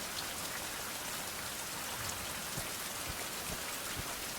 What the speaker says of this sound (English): hopefully this rain will stop, the skies will clear